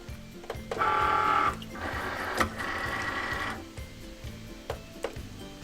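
A Cricut cutting machine whirs and clicks while it draws in a green cutting mat, with short motor bursts and mechanical rattles followed by quieter ticking.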